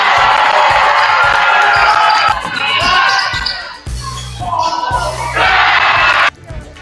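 Crowd cheering at a basketball game, a loud sustained roar of voices and shouts that dips, surges again, then cuts off abruptly near the end, with ball bounces and talk mixed in.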